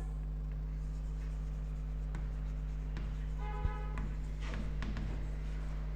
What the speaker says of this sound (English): So I am writing here common size